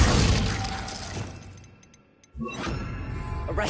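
A Glacius ice spell in the game Hogwarts Legacy, a loud crackling shatter that fades to quiet tinkles, then a fresh burst of icy crunching noise kicks in.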